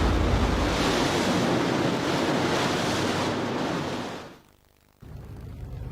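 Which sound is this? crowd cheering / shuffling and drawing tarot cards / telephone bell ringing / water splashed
water splashed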